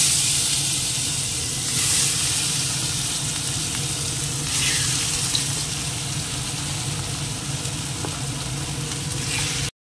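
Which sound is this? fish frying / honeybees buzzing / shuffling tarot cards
fish frying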